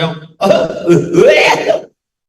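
A single rough, throaty cough, close and fairly loud, lasting over a second, then silence.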